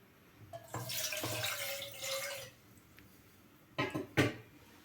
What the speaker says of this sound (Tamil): கொஞ்சமாக தண்ணி விடலாம்.